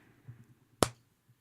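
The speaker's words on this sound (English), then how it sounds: "I'm going to do a clap" A single sharp hand clap used as a sync mark, loud and close after a brief low murmur, then quiet.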